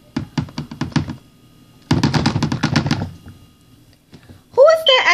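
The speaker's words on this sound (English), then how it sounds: "Who is there at the door?" Rapid knocking on a door, two loud close bursts of quick raps, the second longer and denser, followed by a voice speaking.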